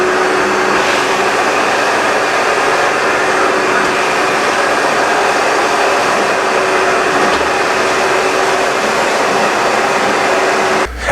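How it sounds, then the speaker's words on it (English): A vacuum cleaner sucks dust off the floor of an interior work area being prepared for lead paint removal, a loud, steady, close roar that runs unbroken throughout. "any of the larger dust piles or dust on the floor, we're going to vacuum that up"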